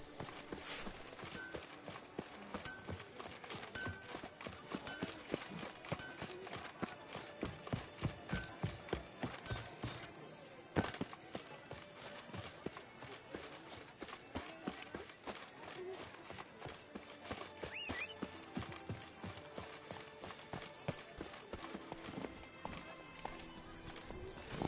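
Roach the horse gallops in The Witcher, with a steady, fast rhythm of hoofbeats running throughout, mixed with game sounds and occasional speech.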